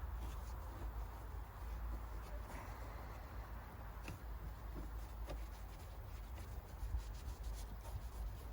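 Soft, continuous rubbing of a cloth wiping the tail light area of a BMW Z4 E89, faint and close with a few small scuffs and knocks scattered through.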